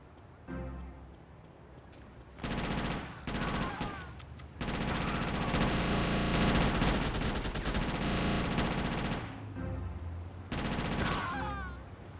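Assault rifle fire in GTA Chinatown Wars on PSP, loud bursts of rapid automatic shots in several long volleys separated by brief pauses, with game effects layered over the shooting.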